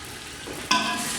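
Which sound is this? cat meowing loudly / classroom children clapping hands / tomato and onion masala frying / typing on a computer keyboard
tomato and onion masala frying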